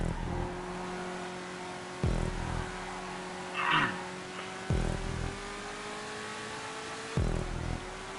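Race cars in GTA Online with steady engine drones and periodic revving surges, three sharp shifts in pitch spaced a few seconds apart, close and continuous with no one speaking.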